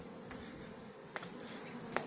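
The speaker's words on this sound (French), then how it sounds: "donc là les abeilles s'installent dans le carton" A honeybee swarm settling into a cardboard box gives a faint, steady buzzing drone, with a few individual bees zipping past more loudly now and then.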